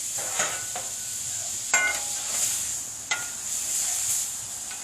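Butter sizzles on a Blackstone griddle, a soft steady hiss with a few sharp scraping clicks from a spatula spreading it around, fairly quiet and with no talk.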